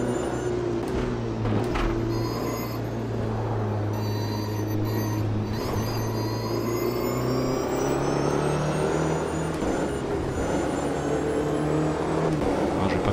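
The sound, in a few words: race car electric motor in a video game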